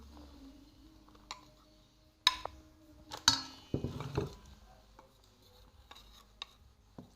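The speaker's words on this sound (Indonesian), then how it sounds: "Kemudian aduk rata." A spatula stirs a mix of glutinous rice flour and rice flour in a mixing bowl, giving quiet scraping strokes and sharp clicking taps against the bowl, with a busier cluster of knocks in the middle.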